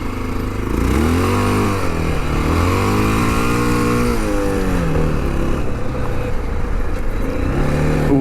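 A Honda XR650L dual-sport motorcycle with stage 1 mods revs its single-cylinder engine on an icy, sloppy trail, rising and falling in pitch through several throttle blips, loud and close, with no talk.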